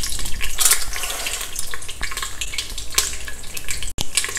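Mustard seeds, methi seeds and a dry red chilli sizzling in hot oil in an inner cooking pot, a steady loud crackle and hiss with bright popping spikes throughout, alone without talk.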